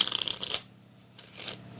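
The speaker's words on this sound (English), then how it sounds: "You can shuffle it this way." A deck of playing cards being shuffled, with two bursts of crisp riffling flutter separated by a short pause, close and fairly loud with no talking.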